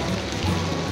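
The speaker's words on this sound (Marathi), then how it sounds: "खूप जोरात पाऊस आहे" Heavy rain pours down at Sula Vineyards in Nashik, a dense, steady hiss of drops drumming on surfaces close by, uninterrupted for the whole short stretch.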